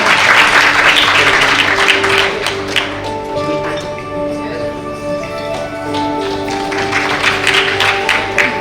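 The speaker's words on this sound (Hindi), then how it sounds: "जोरदार तालियां।" Audience applause welcomes a guest on stage at a formal event, loud at first, then easing to scattered claps and swelling again, with a few voices mixed in.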